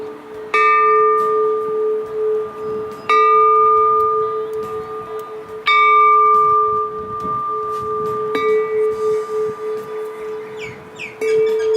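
A large temple bell at Wat Bu Phai in Wang Nam Khiao, Nakhon Ratchasima, is struck five times at spaced intervals, each loud, close strike ringing with a long, sustained metallic hum that overlaps the next.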